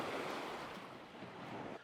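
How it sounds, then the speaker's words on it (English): Big ocean waves roll in on a coast near Forks, a broad, loud, continuous roar of surf with wind noise on the microphone and no voices. "Some big waves coming in."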